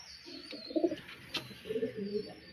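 A pigeon coos in soft, low rounded phrases, two short bursts close by at a tournament gathering, quiet and clear against faint background noise.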